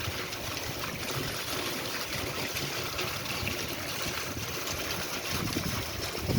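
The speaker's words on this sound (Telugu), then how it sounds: "వర్షం చూడండి, వర్షం" Rain falling outdoors near a housing layout entrance, with runoff washing along the ground. It makes a soft, steady hiss and trickle throughout, fairly faint, with no talk.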